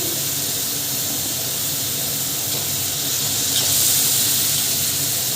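Continuous hissing sizzle of onion paste frying in a pan, steady and fairly loud with a faint high squeal.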